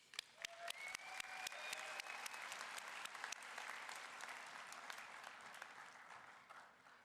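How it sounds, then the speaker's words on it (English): Graduates at a 2019 graduation ceremony give themselves a round of applause, a dense, sustained wash of clapping from a large crowd with sharp individual claps on top, fading slightly toward the end. "you should really give yourselves like a round of applause"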